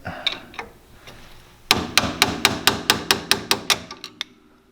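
A part on a Can-Am Maverick X3 tapped with a hammer, a few soft taps followed by about a dozen sharp metallic strikes in a steady rhythm, close and clear.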